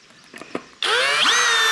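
Power drill running screws into a multi-beard, multi-tail turkey wall mount: a few faint knocks, then a sudden loud sustained whine that rises in pitch as the screw drives in, steady and close.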